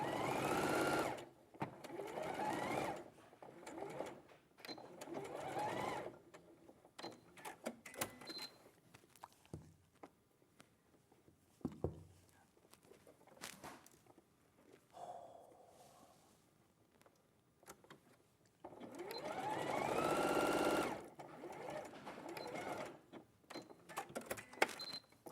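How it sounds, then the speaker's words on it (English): A domestic sewing machine stitches a seam with a centimetre seam allowance in a live sewing studio, running in loud bursts that start and stop before a final run trails off as the bobbin thread runs out. "Oh, the bobbins run out, Bob."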